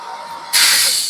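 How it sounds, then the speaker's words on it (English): An air compressor in a workshop where an MK1 Golf cylinder head is being worked on gives off a steady hiss that jumps abruptly to a louder, rushing blast of air partway through. "Oh, the compressor's taking long."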